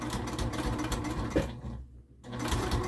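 A sewing machine stitches binding around an upcycled hot pod, running with a fast close mechanical whir, stopping briefly for under a second before starting again at the same steady pace.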